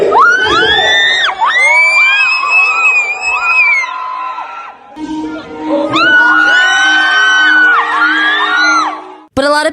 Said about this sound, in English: he pumps his fist into the air in a victory position, and the crowd goes wild